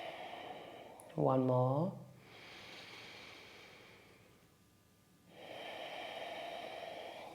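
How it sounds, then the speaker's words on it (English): Two long, airy nasal exhales through both nostrils during a yin yoga session, each lasting about two seconds and close to the mic, with a short spoken cue between them. "exhale through both nostrils"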